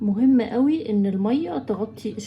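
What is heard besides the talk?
No everyday noises stand out.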